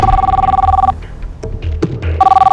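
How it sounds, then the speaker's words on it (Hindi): A telephone rings in the morning with a loud electronic double tone. The ringing stops partway through, a few soft clatters and knocks follow, and the ringing comes back near the end with no voices. "अगले दिन 30 जुलाई को सुबह फ़ोन आया था।"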